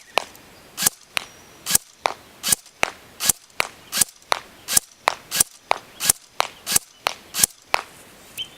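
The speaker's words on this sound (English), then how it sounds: "let's go ahead and test the accuracy of the Special Ops M14. Testing at 50, 100, and 150 feet" A Cybergun M14 Socom airsoft electric rifle fires single shots at an outdoor range, with about fifteen sharp, crisp snaps spaced evenly at roughly half-second intervals, each followed by a short faint tail.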